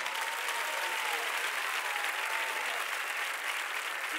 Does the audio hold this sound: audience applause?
yes